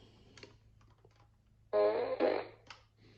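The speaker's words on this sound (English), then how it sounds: "it's a fart blaster from the Minions movies" A Minions fart blaster toy lets out one loud, buzzing, sputtering fart of about a second with a brief break in the middle, preceded and followed by faint clicks and handling noise.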